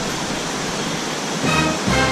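A waterfall rushes steadily below a mineral hot spring pool in a Lampang national park, a broad, constant wash of water noise with a slight swell toward the end.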